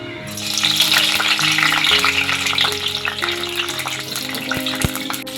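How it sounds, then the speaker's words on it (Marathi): Capsicum (bell pepper) sautéing in hot oil in a pan, a loud, steady sizzle with stirring scrapes and clinks of a utensil, close and continuous with no talking. "आता याच्यामध्ये ना मी पहिली शिमला मिरची परतून घेते थोडी"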